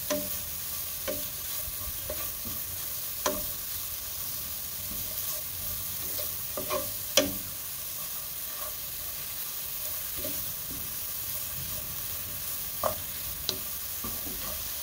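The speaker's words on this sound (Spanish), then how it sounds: "Agregamos media zanahoria rallada. Y la freímos también durante un minuto." Half a grated carrot frying in a pan, with a steady close sizzle and scattered sharp knocks and scrapes from stirring.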